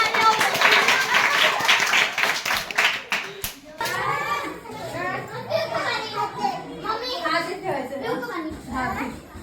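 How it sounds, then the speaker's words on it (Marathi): Children clap their hands in quick bursts at a home birthday party, the claps loud and close, followed by excited children's voices and adult talk. "टाळ्या"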